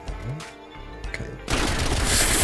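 Pistol fire in the shooter game Call of Duty: Black Ops Cold War bursts in loud and sudden about halfway through, a dense cracking volley after a quieter stretch of game noise.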